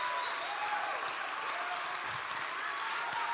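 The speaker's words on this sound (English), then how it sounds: "Please give her a round of applause." An audience at a 2022 closing ceremony breaks into steady, sustained clapping that fills the whole moment evenly, without pause or cheering.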